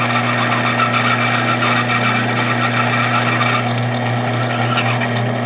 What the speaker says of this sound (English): Drilling pretty nice. Yeah, it is. Sharp drill.